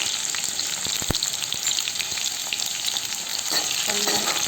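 Cut chillies sizzle and crackle steadily in hot oil with bay leaf in a pan, a dense close frying hiss with a few scraping stirs and no voices.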